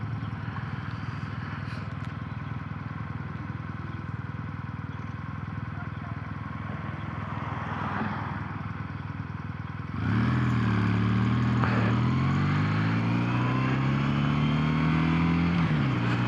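Kawasaki W800 motorcycle being ridden, a steady engine hum and wind noise that swells into a louder, rising rev as the throttle opens partway through, close to the rider.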